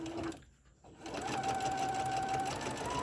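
A sewing machine back stitching on a drawstring Santa bag, a close, steady mechanical whirr with a brief pause near the start before it runs on continuously.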